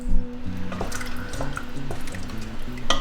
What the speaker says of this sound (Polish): teraz dodaję do tego trochę pasaty pomidorowej